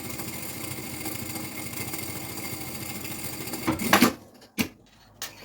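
A sewing machine stitches a second seam across backpack straps, running as a steady fast mechanical whir close up, then stopping abruptly near the end, followed by a couple of brief handling knocks.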